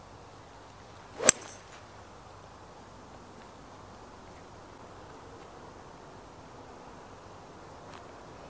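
A single sharp crack of a golf ball struck with a hybrid club on a golf course, brief and clear, followed by quiet outdoor ambience.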